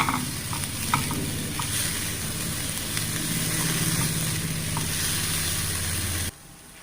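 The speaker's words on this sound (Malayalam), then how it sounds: "നമ്മുടെ ഉള്ളി നന്നായിട്ട് മൂത്തിട്ടുണ്ട്." Onions sizzle and crackle steadily in a pan of hot oil, with occasional stirring clatter close up, the frying sound continuous until it cuts off near the end.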